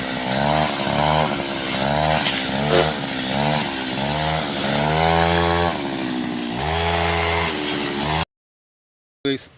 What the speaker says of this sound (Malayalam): അപ്പോൾ നമുക്കൊന്ന് കാട് വെട്ടി വൃത്തിയാക്കി കൊടുക്കാം